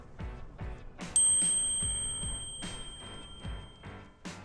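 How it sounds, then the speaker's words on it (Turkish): A single bright ding of a drop-bar bicycle bell on a Trek 520 rings out and slowly fades, over soft rhythmic knocking in the background. "drop barda kullanabileceğim bir tane zil arıyordum."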